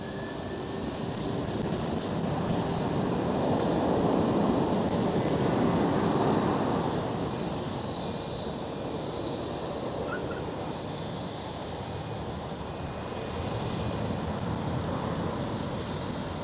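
Delta Airlines airliner departing Amsterdam Schiphol, a distant low engine rumble that swells and fades over several seconds, with faint wind noise in the background.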